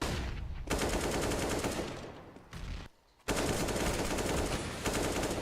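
Rapid automatic gunfire from a Counter-Strike: Global Offensive match on the Train map, loud sustained bursts with a brief pause near the middle before firing resumes.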